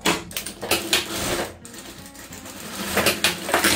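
A sewing machine runs in quick bursts, stitching fabric scraps together for a handmade rug, its rhythmic mechanical chatter near and steady with brief pauses.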